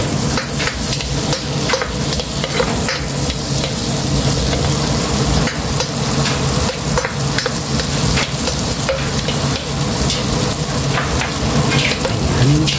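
Butter sizzles and crackles steadily in a hot pan, with a dense, constant frying hiss and scattered pops throughout, with no talking.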